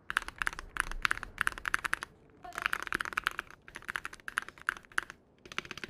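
Rapid typing on a custom-modded Wooting 60 HE keyboard with an aluminum case, lubed switches and lighter springs: crisp, close clacks in quick bursts, one brief pause midway, no talking.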